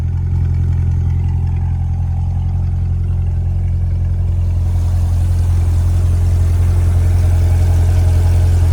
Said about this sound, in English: And there's your dual mode exhaust right there.